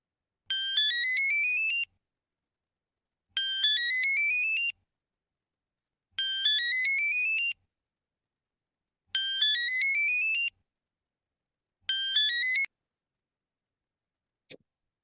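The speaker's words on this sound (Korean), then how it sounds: "이게 이제 두 번째 전화고" A mobile phone ringing with an incoming call, five identical bursts of a bright rising electronic melody separated by silent gaps, loud and close, followed by a brief click.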